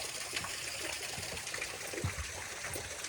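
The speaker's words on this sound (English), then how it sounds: "There's another little tiny waterfall right there." A small waterfall trickles in a muddy redwood forest, a soft continuous splashing wash heard faintly from nearby.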